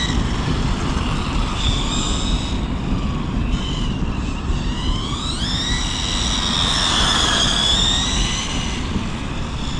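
A Hobao electric RC rally car with a cardan shaft transmission runs nearby, its motor and drivetrain giving a continuous whine that climbs and bends in pitch over a steady rough rumble, with no voices.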